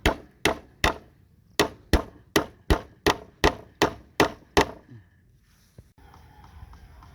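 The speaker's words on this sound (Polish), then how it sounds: "bambus jest twardy, także gwoździe nie wchodzą w niego jak w masło" Twelve hard, ringing hammer blows drive nails into tough bamboo fence posts on a property in the Philippines, struck in a steady rhythm with one short pause, close and loud, then fading to quiet outdoor background.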